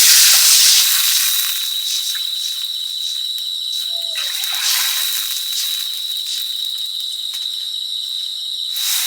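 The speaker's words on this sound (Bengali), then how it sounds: "ডাল তো ভাজা আছে জল দিয়ে দিচ্ছি" Water splashes into a hot pan of fried lentils, setting off a loud, steady hiss of sizzling steam that carries on for the whole stretch with no voices.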